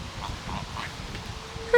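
Canada geese honk faintly and intermittently by a lake, a few distant calls over outdoor ambience, with a brief sharper call near the end.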